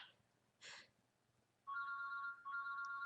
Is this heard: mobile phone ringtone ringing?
yes